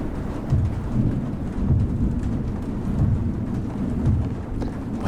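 Steady rain pours with low rolling thunder rumbling beneath it, a continuous dense storm with no voices, from a video game.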